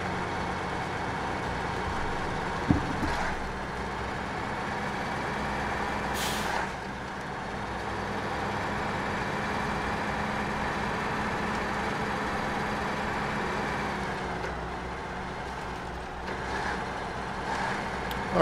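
Truck engine in SnowRunner drones steadily and close throughout, with a sharp air-brake hiss near the start and a burst of escaping air a few seconds later; no talk.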